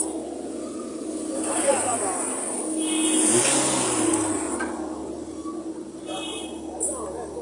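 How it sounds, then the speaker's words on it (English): A vehicle pulls up at a courthouse for the Chidinma Ojukwu murder trial, its engine a low, steady rumble blended into a broad wash of crowd noise and voices talking throughout. "here is Chidinma's vehicle arriving in the court"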